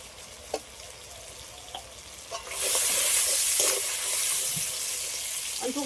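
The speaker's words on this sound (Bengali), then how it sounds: "সবগুলো একসাথে ভালো করে একটু ভেজে নেব।" Vegetables fry with ghee, salt and turmeric for a winter vegetable khichuri, a strong steady sizzle building after the first couple of seconds, with a few soft stirring knocks and scrapes.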